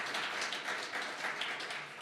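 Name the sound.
audience applause at live stream event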